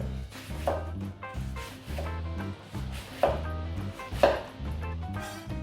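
A knife slices cabbage into very fine julienne strips on a board, giving close, crisp chopping strokes in small regular bursts about once a second, with nothing else heard.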